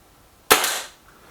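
A Kral Puncher Breaker bullpup air rifle fires one sharp, close shot during target shooting, with a short decaying tail and quiet around it.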